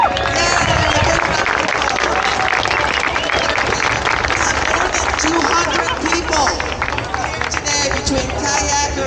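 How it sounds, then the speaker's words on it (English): A dense crowd claps and murmurs at the start area of the Point to Lapointe open water swim, a loud, continuous wash of applause and babble throughout. "So big round of applause for"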